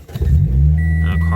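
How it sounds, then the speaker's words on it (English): A Toyota car engine starts up and settles into a loud, steady low idle rumble with a brief rise in revs near the start, recorded close by. "So you start your car,"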